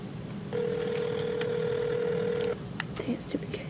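During a prank call, a telephone line gives a single steady electronic tone for about two seconds, followed by a few short dialing-like beeps over faint room noise.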